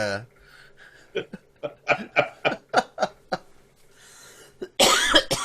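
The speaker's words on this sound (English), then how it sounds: "I'm coughing into my elbow" Speech-like bursts and chuckles lead into a loud, harsh cough at the end, with talking and laughter mixed in before it.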